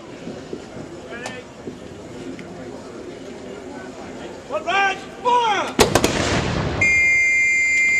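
Muskets fire in a volley at a Royal Green Jackets historical reenactment, a sharp loud crack followed by scattered reports and lingering rumble, with someone narrating over the scene before and around the shots.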